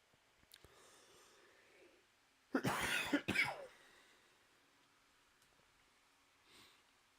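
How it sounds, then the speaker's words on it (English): A short cluster of harsh, close coughs breaks an otherwise quiet stretch, followed by a faint sniff. "very sorry about the coughs today"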